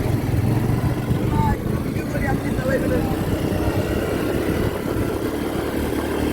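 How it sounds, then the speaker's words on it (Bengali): A motorcycle is ridden along the coast at Kuakata, its engine a loud, steady low rumble throughout with rushing noise over it. "আমি কিন্তু এক হাত থেকে মোটরসাইকেল চালাচ্ছি"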